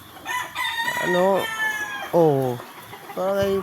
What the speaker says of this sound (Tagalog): Ang dami talagang manok na pinapatukan ni Kapitan.